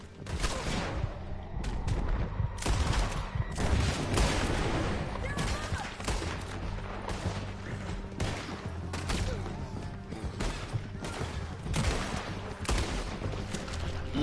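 Rapid gunfire in the Red Dead Redemption 2 video game, a dense string of sharp shots and bangs crackling through the whole stretch over a low game soundscape, fairly quiet overall.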